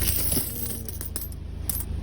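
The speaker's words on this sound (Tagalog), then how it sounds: "Ayan mga kabarya iniipon ni Kabarya" Coins clinking and dropping onto a pile of saved coins, a scatter of small metallic taps and jingles over steady background noise.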